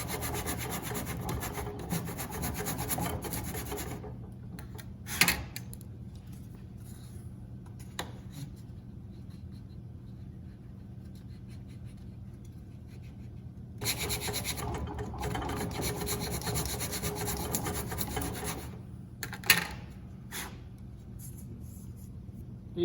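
Ukulele side kerfing is trimmed with short cuts, making a close, steady wooden rasping and scraping in two long stretches, broken by a quieter gap and a few sharp knocks.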